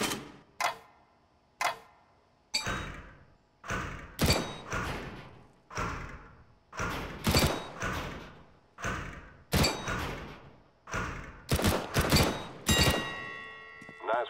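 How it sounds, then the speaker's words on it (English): Gunfire on the CS:GO weapons training course: about a dozen separate gunshots ring out one after another at uneven spacing, each sharp and close with a short decaying tail. "pick up the weapon and shoot 5 bad guys for me"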